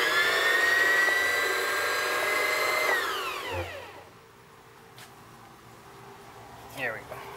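A Singer Heavy Duty sewing machine runs at high speed with a loud, steady whine for about three seconds, then winds down and stops, followed by quieter handling noises and a voice in the background.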